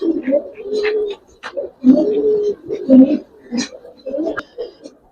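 Giribaz pigeons coo in repeated rolling bursts, close and fairly loud, with short pauses between calls.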